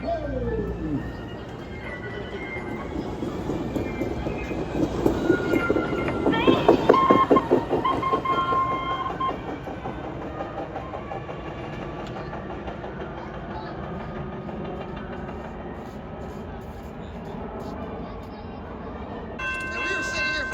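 A train passing a Chicago-area rail location in winter, with a low rumbling roll and rhythmic wheel clatter that swells near the middle, then settles into a steady drone, while a bright tone sounds briefly near the end.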